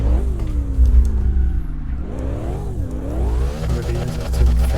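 A racing sim car engine revs continuously while drifting, its pitch sliding up and down as the throttle is worked, loud and steady over a low rumble for several seconds.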